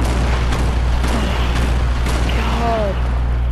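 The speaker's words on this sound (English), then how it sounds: "Why is there so much explosions around?" Muffled explosions echo through a Mandalorian roleplay video game: four or five dull, distant booms spaced about half a second apart over a steady low rumble and hiss, with a faint voice briefly rising near the end.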